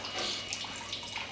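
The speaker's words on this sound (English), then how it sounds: "So let's quickly make a hole with a water jet" A water jet cuts a hole in a steel motor mount, giving off a steady wet hiss with faint irregular splashing and dripping nearby.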